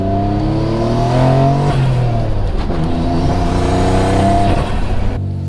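Mitsubishi 3000GT VR4 engine on a dyno, loud steady droning roar with the pitch climbing and shifting as the RPMs rise, continuous throughout.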